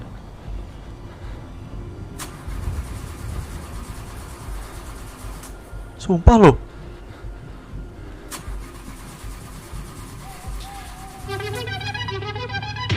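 A car engine in a horror video game cranks and catches near the end, settling into a steady, rough hum. It follows a stretch of low rumbling and scattered bangs, with a brief voice heard earlier.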